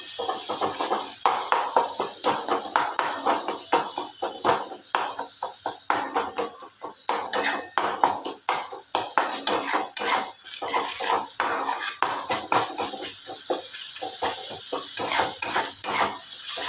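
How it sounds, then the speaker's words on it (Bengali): A spice paste with nakul dana is stirred and fried hard in a pan for a potato and pointed gourd curry, giving loud, rapid, rhythmic metal scraping and clinking over a soft sizzle, with no talk. "মশলাটি খুব ভালো করে কষাবো"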